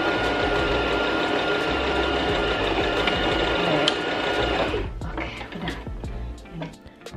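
A Brother JK17B sewing machine stitches knit fabric with a fast, even mechanical whir of needle strokes close by, then slows and stops into a few soft clicks and handling noises.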